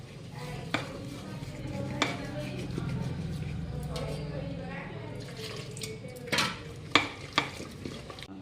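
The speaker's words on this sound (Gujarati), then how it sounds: "હળદર નાખીને મસ્ત મિક્સ કરવાનું છે." A spoon stirs dhokla batter with turmeric in a metal pot, a soft scraping swirl with sharp clinks against the rim, while people talk over it.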